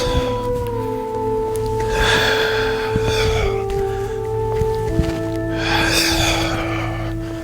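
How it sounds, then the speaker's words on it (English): Two deep, audible breaths during a morning qigong exercise, each a long airy rush, heard over soft sustained background music. "Breathing in, exhale out."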